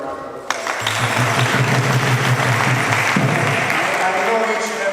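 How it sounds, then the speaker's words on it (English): Temple congregation bursts into applause at a Sunday program, a thick wash of many hands starting abruptly and continuing loud and steady, with voices talking over it. "So please give them again a round of applause."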